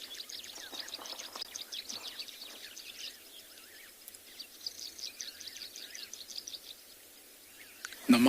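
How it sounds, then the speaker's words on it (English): Wild birds call and chirp continuously on a South African morning safari, Cape turtle doves, Cape glossy starlings, sociable weavers and Namakwa doves among them, a dense chorus of overlapping near and distant tweets with a faint insect hum, ending in a brief louder thump. "I could probably, just from that moment of silence, hear about 5 different birds."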